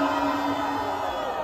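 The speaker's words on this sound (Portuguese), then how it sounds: "Barulho, quem gostou das rimas do Iriti?" Crowd noise at a Brazilian street rap battle semi-final, a short burst of audience cheering and shouting that stays at an even level throughout, with a steady tonal hum underneath.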